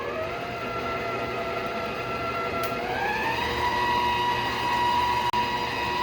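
Stand mixer whirring at low-medium speed through root beer cake batter, a steady motor drone with a clear hum that rises in pitch partway through, continuous and close.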